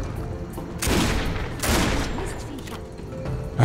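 Shotgun blasts in the video game Risen 2: Dark Waters, two loud booming shots about a second apart over a low background of game ambience, followed by a quieter trailing rumble.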